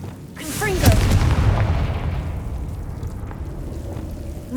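A Confringo fire spell in Hogwarts Legacy bursts with a deep booming explosion that rumbles and fades over a few seconds, loud and close, with a short rising magical whoosh before the blast.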